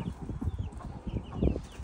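Backyard chickens are being fed, giving a dense, close, continuous mix of soft clucking and scratching with no clear speech.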